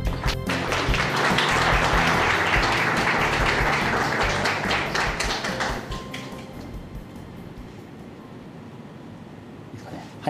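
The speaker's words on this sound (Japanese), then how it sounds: "温かい拍手でお迎えください" Loud audience applause at an architecture seminar welcoming a speaker from an architectural firm, dense clapping with taps and thuds for about six seconds before fading to a quieter room with a final thump.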